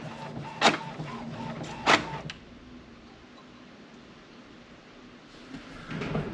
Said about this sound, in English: It looks like it's printing.